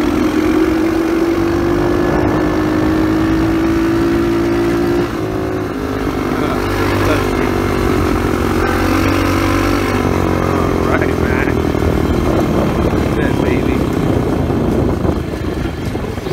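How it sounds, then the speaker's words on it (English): 125cc Chinese motorcycle engine pulling uphill wide open in fourth gear, a loud, continuous buzzing drone close to the rider, its pitch holding high then dipping slightly as the engine labors under load, with wind rush throughout. "this is fourth gear, right, going up a hill wide open"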